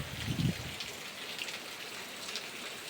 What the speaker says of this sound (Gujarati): રાતનો વરસાદ ચાલુ છે